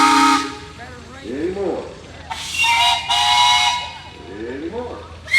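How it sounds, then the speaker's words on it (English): The Wildcat steam whistle on a steam engine shrieks in long, loud blasts at a steam threshers' parade in Darke County, with someone talking briefly between the blasts. "That's the Wildcat whistle."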